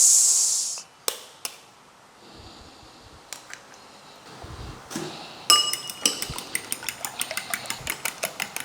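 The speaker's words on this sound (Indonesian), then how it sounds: "Ini ada telur 2 butir, kita kocok lepas." Two eggs are beaten in a bowl with a utensil, making close, rapid, evenly spaced clinks against the side that follow a few scattered knocks and taps.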